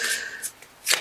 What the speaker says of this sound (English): I feel like these want to be shuffled.